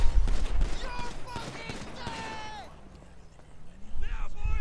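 Rapid bursts of police gunfire at a store during a GTA V game session crackle near and loud, with sharp ringing shots and ricochets over raised voices talking, then a brief lull before more noise.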